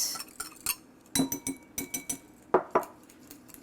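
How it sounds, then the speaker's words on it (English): A whisk scrapes agave syrup around a bowl for vegan, gluten-free cookie dough, making close, bright metallic clinks and taps in an irregular series. "I'm just gonna use my whisk to get it out."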